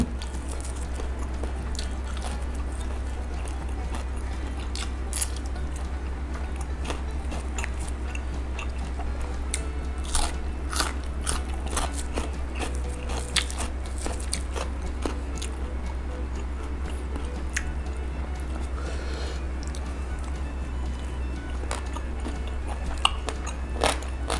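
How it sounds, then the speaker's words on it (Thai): Close, crisp crunching and biting as Thai fermented pork with soft, chewable pork bones is eaten, repeated irregular crackly bites over a steady low background hum, with no talking. "กระดูกหมูนี่คือเคี้ยวได้ อ่อนกำลังดี"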